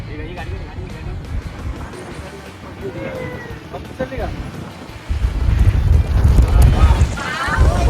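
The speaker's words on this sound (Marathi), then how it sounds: "खूप हवा चालू झाली, खूप हवा आहे" Strong monsoon wind buffets the microphone during a motorbike ride through Malshej Ghat in Maharashtra, a loud rushing roar that swells into heavier gusts midway, with voices underneath.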